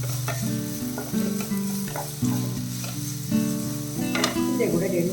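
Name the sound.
chopped onions frying in hot oil, mushroom masala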